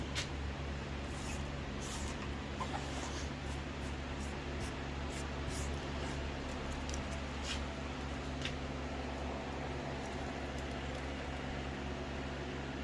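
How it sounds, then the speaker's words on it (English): Steady hissing spray of alcohol from a spray bottle runs continuously for several seconds at close range, a constant broadband wash with no talking over it. "to spray this off with alcohol"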